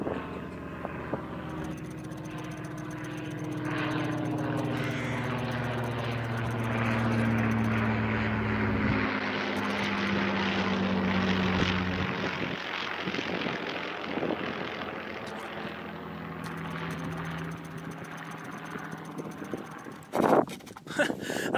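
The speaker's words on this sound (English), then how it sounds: "a Spitfire. That's pretty cool." A Spitfire propeller aircraft passes overhead above the South England countryside, its engine drone swelling loud and sliding down in pitch as it goes by, then fading away over about twenty seconds.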